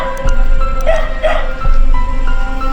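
Dogs bark and yip among houses beside a cemetery at night, a few short barks rising over steady background noise with some faint whimpering tones.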